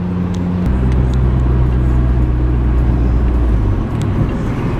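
Car engine running steadily while driving, a continuous low rumble close and loud throughout with no talk.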